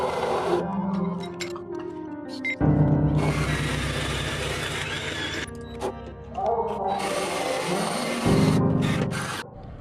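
A power drill bores holes into a car part while fitting a K-Miata differential brace, with sustained loud whirring bursts broken by short pauses, close by and alone.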